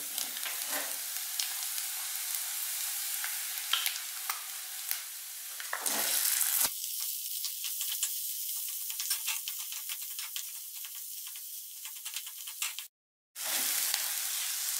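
Cumin seeds and potatoes fry in hot oil over paste for stuffed capsicum, a loud steady sizzle and hiss with stirring scrapes that briefly drops out before resuming.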